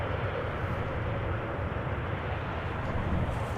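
KLM Boeing 787-10 Dreamliner arriving at Amsterdam Schiphol Airport, a loud steady low jet roar with broad rumbling noise, continuous and close, with no talk.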